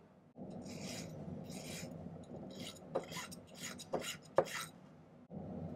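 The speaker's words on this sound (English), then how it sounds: "So let's spend some time filing this side now." A metal file rasps along the edge of a silver band for herringbone jewelry, giving repeated close strokes with a few sharper scrapes and no speech.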